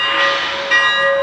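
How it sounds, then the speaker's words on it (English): Bell of a Lionel LEGACY EM-1 2-8-8-4 model steam locomotive, a steady metallic ringing tone held continuously at close range, with no voices. "The bell turns on and stays on automatically."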